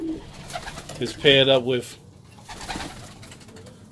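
Domestic white homing pigeons coo in a breeding loft, a loud burst of rising, bubbling calls in the middle with someone talking around it.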